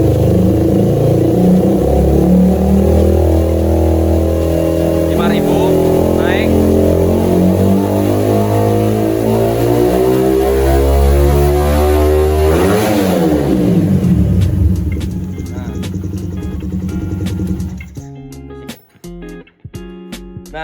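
Motorcycle engine fitted with a PWK carburetor revving hard, climbing and falling in pitch through repeated throttle blips, then cutting back to uneven idle pops before stopping, loud and close.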